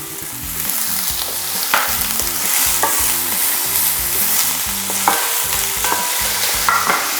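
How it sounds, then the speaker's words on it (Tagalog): Onions sautéing in hot oil in a large pan, a continuous close sizzle broken by repeated rhythmic scraping strokes of a stirring utensil. "Papainit lang tayo ng mantika. At igisa na natin yung sibuyas."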